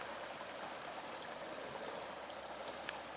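Water flowing steadily along Can Creek, a tributary of the Sabinal River, a constant close rushing burble with no voices.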